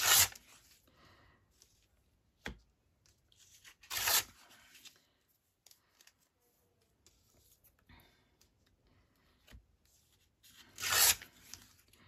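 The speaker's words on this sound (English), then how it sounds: "I'll just tear them and then I can decide where to put them." Paper pieces being torn by hand for a collage, with three loud close rips and several faint shorter tears and rustles between them in a quiet room.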